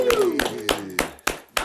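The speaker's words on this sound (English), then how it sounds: "let's give a warm round of applause for Dion Rubio" A few hands clapping for a guest on a talk show, about six distinct claps at a steady, unhurried pace, close and clear, with a brief voice at the start.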